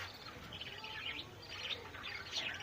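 A breeding pair of budgies in an aviary gives quick, high, twittering chirps in repeated bursts, faint and somewhat distant over a low steady background, with no voices.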